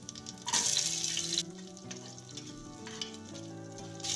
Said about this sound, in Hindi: अब इसमें कटा हुआ प्याज डाल देंगे।